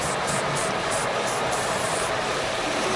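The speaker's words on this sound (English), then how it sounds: "A little bit of spray." Hairspray mists onto a styled head of hair in a series of short, soft hissing bursts, faint and close, with no voices.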